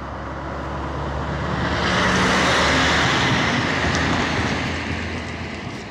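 A lorry passing on a nearby road, a broad rumbling roar that swells to a peak around the middle and slowly fades, loud and alone.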